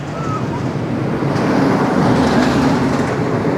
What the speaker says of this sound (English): we should see the train in the ending of this quad down in this unbelievable finale to this coaster